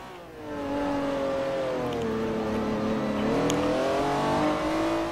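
An Acura race car's engine howls in Forza Motosport 4, a steady, loud, close revving drone that climbs, dips slightly and rises again as the car accelerates, with no talk.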